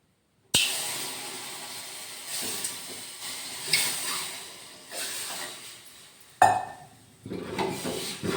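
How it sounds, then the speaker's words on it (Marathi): Water poured straight into hot roasted semolina in a pan sets off a sudden loud steaming hiss and sizzle that fades, then surges again with a second sharp burst near the end. "याच्यामध्ये डायरेक्ट पाणी सोडते."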